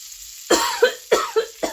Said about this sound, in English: Ooh, I got a cough